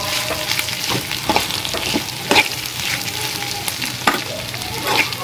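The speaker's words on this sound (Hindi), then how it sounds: "इसे सिम पे थोड़ी देर और भून लीजिए" Okra frying slowly on low heat with coriander seeds, a steady close crackling sizzle broken by light stirring scrapes and occasional sharper pops, with no talking.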